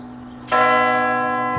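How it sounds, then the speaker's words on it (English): A hall clock's bell strikes once, loud and close, its deep metallic tone ringing on and slowly fading. "The hall clock struck 4"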